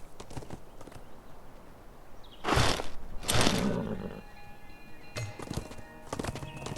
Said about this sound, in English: Mount your horse and follow me.